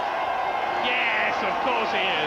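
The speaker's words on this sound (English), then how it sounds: "and just listen to the crowd." Grand Prix crowd cheering for Ferrari at the 2000 Australian Grand Prix podium, a steady distant roar under close commentary talk.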